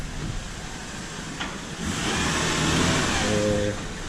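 A Chevrolet Chevette engine runs on a jack stand, a steady mid-pitched hum that swells slightly as it revs, heard close and continuous with no talk over it.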